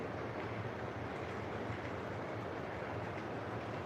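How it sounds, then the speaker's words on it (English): O-gauge model coal train running slowly on its track, a steady close rumble and whir with faint rail clatter, unbroken and with no talking. "I'll start with running the coal train"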